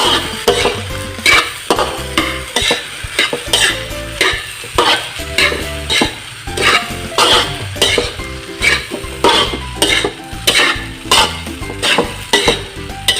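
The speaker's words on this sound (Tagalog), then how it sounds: "Then haluin lang po natin ulit." Fried rice stirred in a pan, a utensil scraping and tossing in steady repeated strokes over a continuous loud sizzle, close up with no talking.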